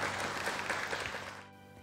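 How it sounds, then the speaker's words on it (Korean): A studio audience on a Korean TV quiz show claps in a dense, even burst that cuts off abruptly after about a second and a half, leaving quiet room tone. "박수 한번 보내주십시오"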